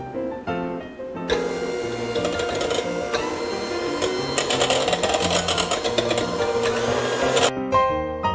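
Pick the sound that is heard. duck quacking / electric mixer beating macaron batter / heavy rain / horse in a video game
electric mixer beating macaron batter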